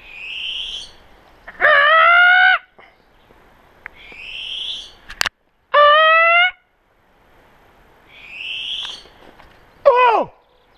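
An owl calls in repeated loud, clear hooting bursts, three strong calls spaced a few seconds apart, with a person trading cries with it outdoors on rural land; softer breathy sounds fill the gaps.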